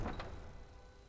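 A door opens in the video game Skyrim, a brief wooden scrape and thud at the start that fades quickly into quiet.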